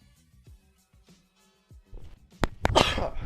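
A single loud sneeze bursts out sharply at the end, right after a couple of quick preparatory breaths and a short catch of the throat, close to the microphone in a quiet room.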